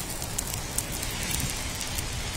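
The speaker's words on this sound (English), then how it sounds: "For campfire survivor Jess Mercer, the sound and sight of these flames from the Dixie Fire hits too close to home" Flames of the Dixie Fire, a California wildfire, burn with a steady, dense crackling roar, close and continuous, with no voices.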